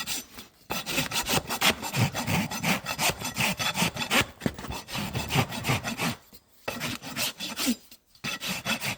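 Farrier rasping a horse's hoof flat with quick, steady back-and-forth strokes, loud and close, broken by a couple of short pauses.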